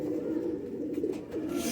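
A Faqeer gull pigeon, a broad-winged bird with purple feet, coos close by in low, soft, throaty pulses over about two seconds, with faint background noise.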